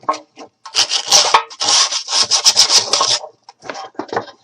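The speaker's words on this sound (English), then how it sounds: "all I'm doing is just taking sandpaper and just roughing it up" Sandpaper roughs up the freshly painted surface of a wooden wagon, making loud, close scratchy rubbing in quick back-and-forth strokes with short gaps, no talking.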